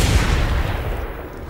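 A gunshot in the Mad Max video game, heard as a heavy booming blast whose rumbling tail fades over about a second and a half, loud and without speech.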